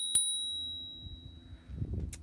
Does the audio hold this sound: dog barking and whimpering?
no